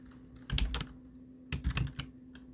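Typing on a computer keyboard while entering text into an Excel macro button, two short bursts of close, quiet keystrokes separated by a pause, with a steady background hum.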